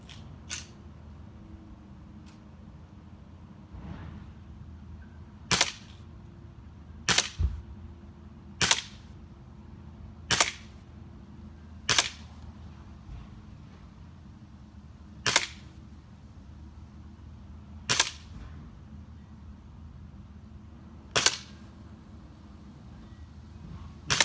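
An Elite Force 1911 Tac airsoft pistol fires at a target: about ten sharp single snapping shots spaced a second or several apart, loud against a quiet low room hum, with no talking.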